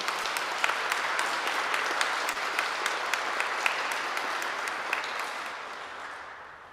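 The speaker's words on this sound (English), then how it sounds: "I think perhaps we should give a round of applause to all those who support you." A congregation applauds its supporters at a centenary celebration service, dense steady clapping from many hands in a reverberant hall that gradually tapers off, without talk over it.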